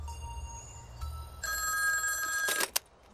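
A telephone rings indoors in a police-station scene from a crime film, a bright electric bell trilling in short bursts that grow louder before stopping abruptly.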